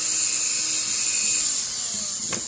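Dremel rotary tool with a taper burr carving wood, a steady high-pitched whine close by, with a brief scratchy burst of the bit biting into the wood near the end, no talking.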